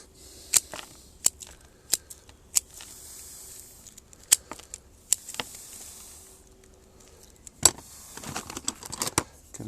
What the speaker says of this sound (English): I put window screen, which should be fine. It still needs to be cut a little more